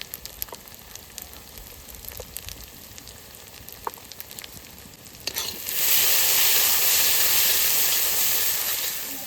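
Spice masala with garlic, salt and turmeric is fried in a pan for a thin desi chicken curry. Scattered soft clicks and taps give way to a sudden, loud, steady sizzle that fills the second half, with no talking.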